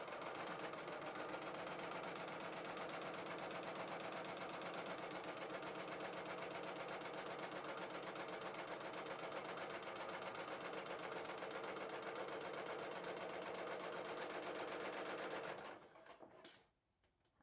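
A serger sewing machine stitches a rolled hem with differential feed, a dense, steady mechanical whir running continuously at close range before it winds down and stops near the end.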